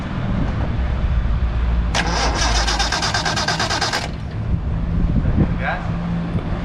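A Datsun 240Z that has sat for three years cranks with a rapid starter chatter for about two seconds, then catches and settles into a rough idle, with people talking nearby.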